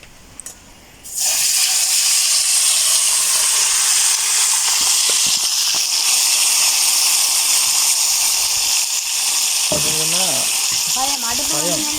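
Squid frying in hot oil over a village cooking fire, a loud steady hiss and sizzle that bursts on suddenly after a second and holds, with a voice speaking briefly near the end.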